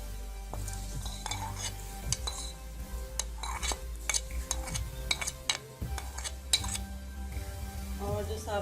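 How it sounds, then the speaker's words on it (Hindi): Whole corn kernels go into a pot of chicken corn soup, with a spoon scraping and clinking against the pot over a soft sizzle. The stirring clatters in irregular bursts, close and fairly loud. "और जो साबुत मकई हमने रखी थी वो भी इसमें डाल देते हैं।"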